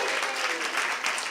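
Audience applause at a fashion panel on red carpet celebrity style, dense and steady clapping from a seated crowd with no voices over it.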